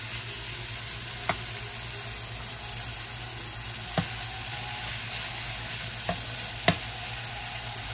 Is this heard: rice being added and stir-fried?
yes